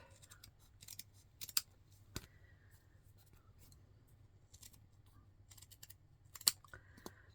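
Scissors trimming a paper craft tag, a few faint, quick snips and clicks scattered across a quiet background, close by and soft, with no talk over them.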